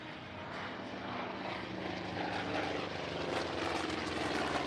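P-51 Mustang propeller fighter at the Oregon International Airshow, McMinnville Airport, giving a steady, loud engine drone that swells slightly as it continues, heard alone.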